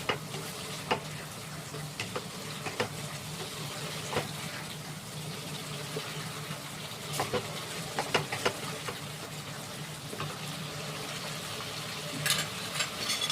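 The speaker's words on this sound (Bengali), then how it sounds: "তেলটা দিয়ে একটু নাড়াচাড়া করবো।" Oil heating in a hot pan as it is stirred, giving a steady low sizzle with scattered scrapes and clicks of the utensil against the pan, close and continuous with no talking.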